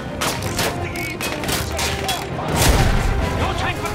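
Battlefield 1 battlefield gunfire: a steady clatter of overlapping distant and near shots makes a continuous fusillade, and a heavier boom lands midway through.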